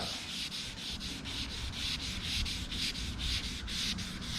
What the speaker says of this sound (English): Because you got a wet sander to make it flat, perfectly flat.